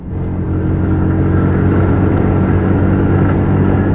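A Lexmoto ZSB motorcycle engine, being run in, drones loudly and steadily up close while accelerating through the gears, a deep rumbling tone holding even revs with a gradual rise.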